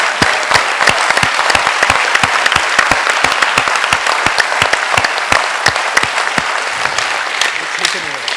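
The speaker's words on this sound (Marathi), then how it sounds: "तर तुम्हाला टाळ्या वाजवायच्या असतील तर जोरात वाजवा." An audience at a yoga talk claps loudly, with dense, sustained applause running steadily from start to finish and no pauses.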